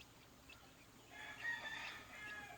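A gamefowl hen clucks softly to call her chicks out to eat, faint and distant, low repeated calls over quiet background hiss.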